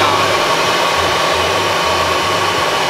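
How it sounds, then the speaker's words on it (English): An electric air blower pumps up an inflatable at a campsite, giving a steady, loud, unbroken whir that runs alone for the whole stretch. "I got a blower if you want to pump it up"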